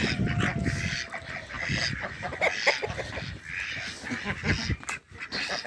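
Ducks on a free-range chicken farm quack and honk repeatedly in a busy, overlapping chorus close by, with a brief voice in the background.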